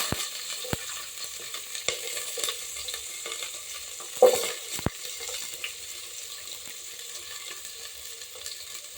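Onion, brinjal and okra with green chillies frying in a pan for sambar. A soft, steady sizzle runs throughout, broken by a few sharp clicks of stirring and one louder clatter near the middle, with no talking.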